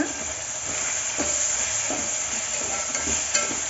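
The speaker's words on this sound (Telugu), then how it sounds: "ఇప్పుడు ఇందులోకి కారం గరం మసాలా వేసేసుకొని కలుపుకోవాలన్నమాట" Chilli powder and garam masala are stirred into onions frying in a pressure cooker for pulao, with a steady close sizzle and the scrape of a spoon rising now and then.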